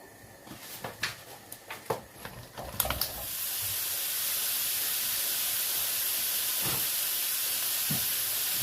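Loud, steady sizzling hiss of mince frying in its own fat in a hot pan without oil, preceded by a few scraping clinks of a utensil before the sizzle swells and holds.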